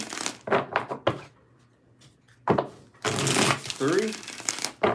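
Tarot cards shuffled by hand in several quick riffling bursts, close and crisp, alternating with a person speaking between the shuffles.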